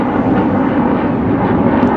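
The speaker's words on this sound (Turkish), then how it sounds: "Bu arada savaş uçakları sınır ötesi hareket için buradan sürekli havalanıyorlar. Sesle bir problem olabilir." Military fighter jets take off from a nearby base, a loud, continuous roaring rumble overhead that fills the air without a break.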